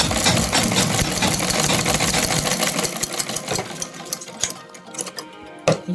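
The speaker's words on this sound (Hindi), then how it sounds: "ये मेरी गले की पट्टी की सिलाई है" Sewing machine stitching the neck strip of a kurta, a fast steady mechanical rattle that runs continuously, then slows into separate bursts and stops near the end.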